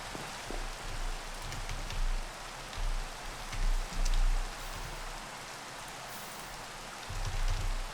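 Rain in a Minecraft modpack game, a steady hiss of falling rain throughout with soft low rumbles, even and continuous with no speech.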